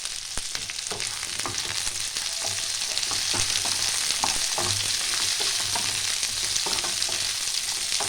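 Sliced capsicum frying over a low flame in a pan for a mushroom chilli, giving a continuous crackling sizzle with occasional stirring scrapes, close and steady throughout.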